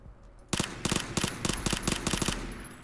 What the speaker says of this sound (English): And that's when I take him out with a suppressed micro Uzi.